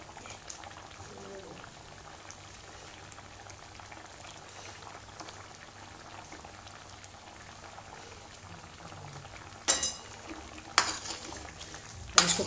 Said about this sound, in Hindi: इसको थोड़ी देर हम उबाल लेंगे, जिससे हमारी ग्रेवी इसके अंदर मतलब पकौड़ियों के अंदर हमारी पकौड़ियाँ ग्रेवी को पी लें।